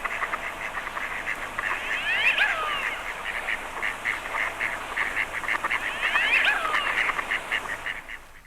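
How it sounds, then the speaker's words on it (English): Pochard ducks on a reservoir give repeated calls in two clear bursts over a dense chorus of distant waterfowl calling, moderately loud and continuous with no talk. "The chestnut and grey drake pochard are also fond of reservoirs in which they can dive for food."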